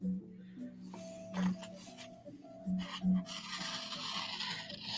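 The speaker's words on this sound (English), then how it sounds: "stropping like this is really taking it to the next level for me" A blade stroked across a kangaroo leather strop mounted on a wooden plank with fine compound, giving faint, soft rubbing swishes at an uneven pace over a low steady hum.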